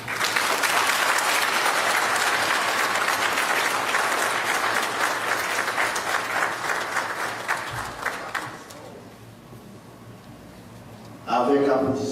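A crowd at a Haitian Independence Day speech applauds with loud, sustained clapping for about eight seconds before it fades out, and then a voice starts speaking.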